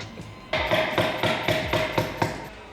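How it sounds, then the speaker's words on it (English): Hammer strikes drive a suspension bushing into place on an R34 Nissan Skyline, six sharp metallic blows in a steady rhythm, loud and close with ringing tails and no voices. "I think I need to hammer it"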